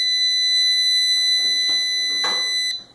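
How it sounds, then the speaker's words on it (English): Electronic buzzer in a fridge light experiment, driven at its resonant frequency, gives a loud steady high-pitched tone held for nearly three seconds before cutting off, with faint room noise beneath. "The buzzer is set to its resonant frequency when it's dark, so that it's as loud as possible."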